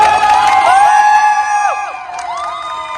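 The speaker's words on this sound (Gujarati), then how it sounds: "તો સર માટે એકવાર દિલથી જોરદાર તાળી પાડો" Crowd cheering and whooping at a ceremony handing over a brand-new Hyundai Creta, loud and close throughout, with high children's shouts and excited voices; the cheers fade slightly toward the end.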